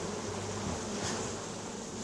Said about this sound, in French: Pas mal d'abeilles.